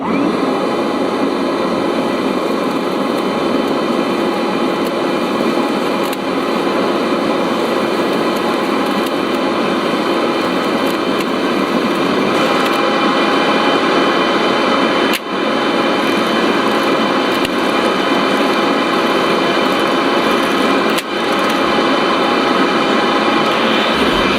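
A power sander works over painted material with a Makita dust extractor hooked up, producing a steady, loud, continuous whir and hiss that holds evenly throughout, with no talking.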